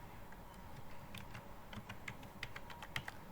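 Rapid, irregular clicks of typing on a computer keyboard while filling in a course ID field in Microsoft Visio, close and fairly quiet, with light background hum.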